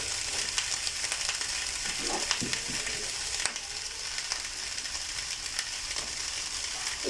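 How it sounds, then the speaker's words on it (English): Steady sizzling and bubbling hiss from a pot of milk boiling on an induction cooker, with occasional faint clinks, continuous and fairly close. "I'm just boiling them in the induction cooker."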